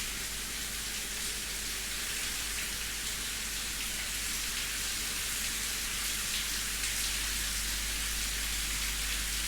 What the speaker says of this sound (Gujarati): ગોધરામાં ઝરમર ઝરમર વરસાદ વરસી રહ્યો છે